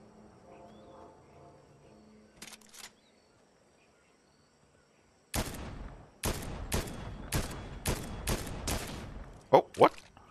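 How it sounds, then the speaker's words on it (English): Shots ring out in Fortnite Chapter 3 Season 3. After a quiet lead-in with faint background sound, about seven loud, sharp reports fire in an even rhythm, followed by a few quicker cracks. "Somebody shooting that way."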